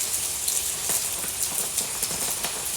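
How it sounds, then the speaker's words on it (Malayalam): Steady rain falls on a cool monsoon morning in Kerala, a dense, even hiss with faint scattered drop ticks throughout, no voices. "ഇവിടെ ഇപ്പോഴും മഴ തന്നെയാണ് കണ്ടത്."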